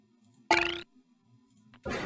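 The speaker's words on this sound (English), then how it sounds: "That little bell sound is south, though." A small bell chimes in the game Myst, a bright ringing ding with a bell-like decay, heard once as a single near strike, followed by a softer second burst of noise.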